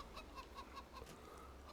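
Chickens in the video game Farming Simulator 22 cluck in a soft, quiet series of about five evenly spaced short calls over a low steady background hum.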